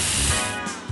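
A spray booster fires in the Match Masters match-three mobile game: a loud, continuous hissing spray lasting about a second, with a faint mechanical rattle near the end.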